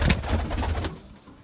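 A pigeon gives a soft, low coo, a brief throaty call up close that fades into quiet.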